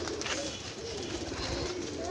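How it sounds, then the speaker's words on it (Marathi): Pigeons coo in soft, repeated rolling calls close by, with a low background hum and a voice talking over them. "हे बघा कबूतर आपलं, हे बघा माझा सर्वात आवडता कबूतर आहे लालदूम"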